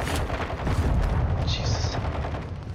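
Gunfire in Call of Duty Warzone 2.0 Resurgence quads, a dense sustained burst of rapid shots with booming low rumble, loud throughout, with a faint higher electronic tone partway through.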